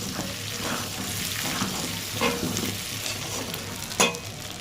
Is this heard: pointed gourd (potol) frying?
yes